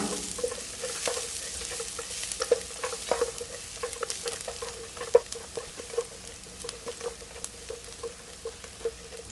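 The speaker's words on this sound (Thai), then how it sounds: "ขั้นตอนนี้เราก็จะเจียวกระเทียมให้เหลืองแล้วก็ให้ส่งกลิ่น หอมขึ้นมาค่ะ" Garlic frying in hot oil in a pan while being stirred, a constant close sizzle with scattered light scraping and tapping from the utensil throughout.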